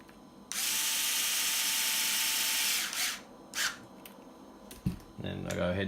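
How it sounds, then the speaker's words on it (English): Power drill or driver whirring steadily for about two and a half seconds while screws are tightened on an HB D817 RC buggy differential, followed by short bursts and a clicking ratchet-like catch near the end. "Then I go ahead and tighten those two down, nice and firm."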